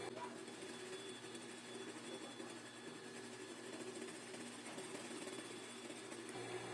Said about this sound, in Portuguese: Vou costurar aqui com a distância de um pé de máquina, em volta de toda a toalha.